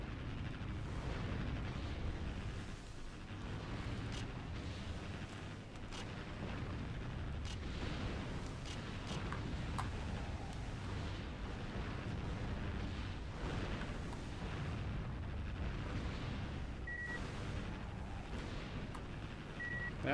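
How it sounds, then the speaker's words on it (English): Naval guns firing at enemy aircraft in the Warship Gunner video game, with dense, continuous booming and rumbling blasts that stay loud and steady throughout, with no pauses. "I've got to stop shooting at aircraft for a second"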